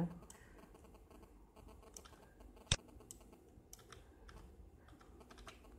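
Typing on a computer keyboard while deleting Java code, a soft steady patter of key presses with one sharper louder tap partway through, close but quiet.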